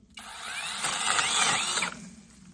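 A Seesii electric pole saw cuts into a tree branch with a sudden loud whining buzz of the chain. It holds steady for under two seconds and then cuts off, leaving a short trailing whir.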